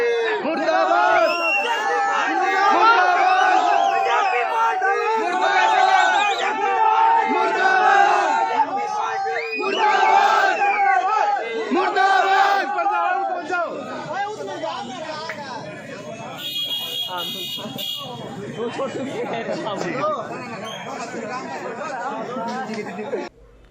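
A protest crowd chanting slogans against politicians while waving black flags, loud massed voices shouting in rhythmic unison, mixed with chatter and a few cheers nearby.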